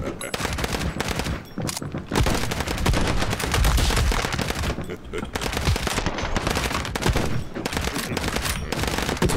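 Dense, loud video game gunfire fills Madness Project Nexus, with rapid automatic bursts and single shots overlapping almost without pause. Brief gaps separate some volleys.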